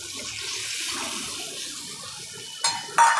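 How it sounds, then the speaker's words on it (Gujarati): Water poured from a glass into a pan for Gujarati brinjal curry (bhatha ni kani nu shaak), a steady close gushing pour running throughout, ending with two short splashy bursts near the end. "એમાં આપણે એકથી દોઢ ગ્લાસ જેટલું પાણી નાખશું"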